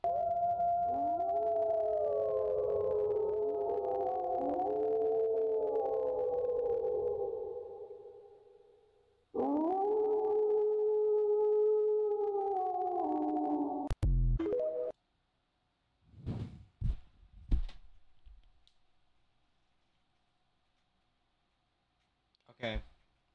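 A person imitates a wolf with long, wavering howls that rise and fall in layered tones for about fifteen seconds, followed by a few short vocal bursts and a brief sound near the end.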